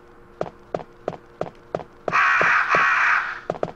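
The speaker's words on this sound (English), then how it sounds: "How the fuck did the crows get in here?" Crows caw in the Resident Evil video game: a string of short, evenly spaced harsh calls, then a sustained rushing burst before the calls resume, with no talking.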